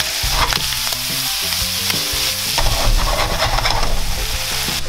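Chopped tomato frying in a pan for a bacon cottage cheese omelette, a steady loud sizzle with stirring scrapes over it, close and without speech.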